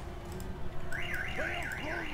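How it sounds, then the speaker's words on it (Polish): Alarm in Total War: Warhammer, underground battle at Karak Norn: a loud warbling siren sweeping up and down repeatedly over low battle noise, entering partway through. "Wyłączcie ten pieprzyny alarm."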